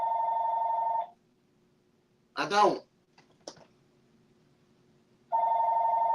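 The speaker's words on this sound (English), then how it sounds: "Sorry about the phone in the background." A telephone rings in the background in two separate bursts of electronic trilling, separated by a short stretch of speech and a couple of clicks.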